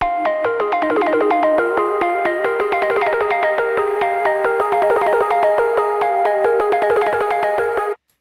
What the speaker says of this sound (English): I've loaded up an instance of Minimal Audio's Current, and using the MK3 I played in this chord